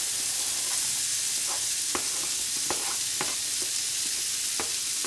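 Onions frying in a pan with tomatoes give a steady, dense sizzle, with a few sharp clicks of a utensil stirring against the pan; no voices.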